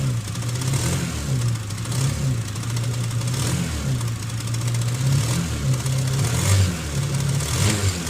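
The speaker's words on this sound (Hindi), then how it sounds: "अब जैसे इस बाइक को मैं स्टार्ट किया है और इसका रेस लेता हूँ" A TVS Apache RTR 160 BS6 motorcycle with a fuel pump problem runs and is revved. The engine holds an uneven, sputtering note that misses and fails to pick up. It sounds steady and close, and nobody speaks.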